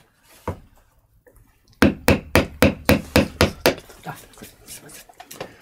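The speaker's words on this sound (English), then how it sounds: "Stage two is the clearing with the wide chisels." Wide chisels strike and clear wood from a carved woodblock for a print, giving a series of about eight sharp, evenly spaced knocks that fade into lighter, quicker taps, close and loud.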